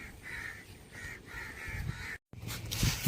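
A captured crow caws repeatedly in a rhythmic series of harsh calls at a shrimp farm, fairly close, followed by a brief gap and some louder rustling and knocking.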